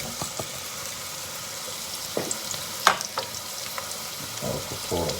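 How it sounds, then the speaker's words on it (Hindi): Onions hit hot oil for matar pulao and fry with a steady, close sizzle, broken by a few sharper clinks and stirring scrapes. "अब डाल रहा हूँ ऑनियन"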